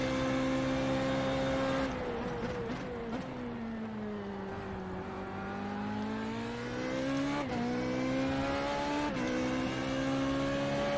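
A race car engine on a lap in the iRacing simulator: a steady droning tone that swoops up and down in pitch, with sharp dips at shifts or braking and revs climbing again, continuous and unbroken with no talk.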